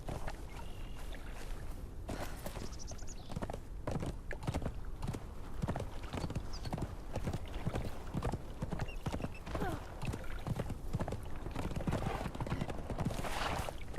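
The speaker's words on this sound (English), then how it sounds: "Horsey." Horse hooves clip-clop at a steady trotting rhythm across ground in the game Conan Exiles, faint and continuous, with light wind beneath.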